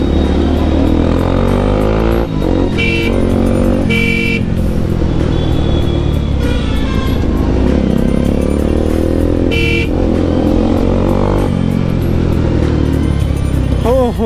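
A motorcycle with a loud exhaust roars steadily up close while riding through traffic, with horns honking several times around it and faint talk underneath.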